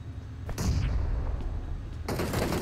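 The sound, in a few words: gunfire from the player's favorite gun in the video game PUBG Mobile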